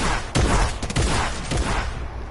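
Rapid gunfire in Fortnite rattles off in several close, loud bursts and volleys over a couple of seconds, with brief gaps between the strings of shots.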